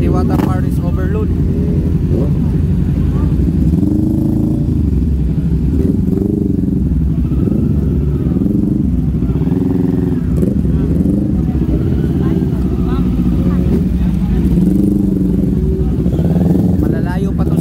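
Big motorcycles ride in a group on a road trip from Cavite to Pasay, their engines giving a steady, loud drone throughout, with people talking over it.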